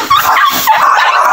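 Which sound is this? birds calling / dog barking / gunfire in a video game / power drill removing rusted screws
dog barking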